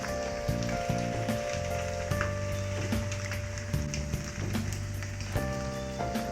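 Butter sizzles on a hot griddle in a fast-food kitchen, a steady frying crackle that runs close and continuous, with background music tones layered over it.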